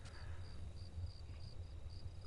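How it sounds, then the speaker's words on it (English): Steady rain in the horror video game Home falls as a dense, even hiss over a low rumble, with faint cricket-like chirps repeating at regular intervals throughout. "Man, it's raining a lot."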